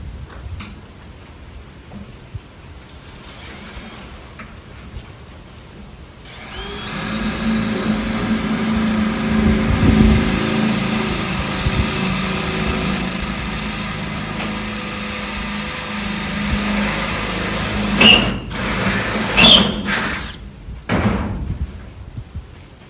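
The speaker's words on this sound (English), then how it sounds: "So I'm going to carefully drill." A power drill starts after a few quiet seconds and grinds steadily into concrete, rising in strain, then stops and restarts briefly.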